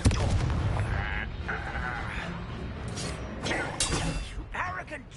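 A Confringo spell blast in Hogwarts Legacy, with sharp bursts and crackling impacts amid game combat effects and clashing mechanical noises, while a voice talks over the fight.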